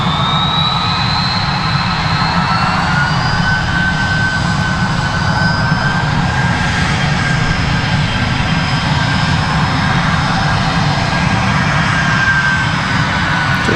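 An Airbus A220 jet with Pratt & Whitney engines, operated by PSA Airlines at Raleigh-Durham International Airport, roars loudly and steadily throughout, with a broad engine rumble and a high whine that slowly shifts in pitch.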